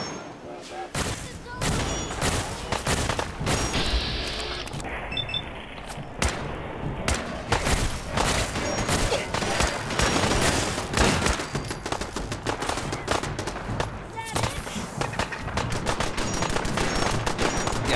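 Rapid bursts of turret gunfire in Fallout 4, dense overlapping shots and fusillades crackling loudly and continuously throughout, with game sounds and some voice mixed underneath.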